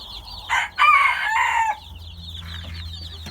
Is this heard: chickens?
yes